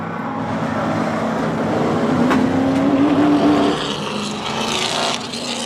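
Race cars in race trim on the oval at Hythe Motor Speedway, engines roaring together in a loud, continuous drone that swells as cars pass close and then eases.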